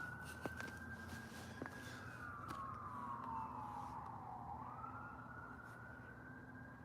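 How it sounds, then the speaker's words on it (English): An ambulance siren at a railway trackside spot; a faint, distant wailing tone sweeps slowly down and back up over a steady outdoor background hum. "That's a ambulance."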